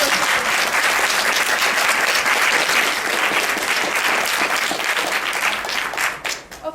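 An audience claps steadily and loudly for several seconds, a dense wash of hands that thins and fades out at the end.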